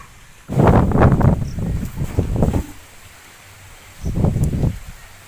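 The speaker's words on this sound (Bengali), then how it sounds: "আজকে প্রচণ্ড হাওয়া হচ্ছে বন্ধুরা" Strong outdoor wind gusts buffet the microphone in two loud, roaring bursts with a lull between, at an open-air cooking spot where a sweet-maker's stove is being disrupted.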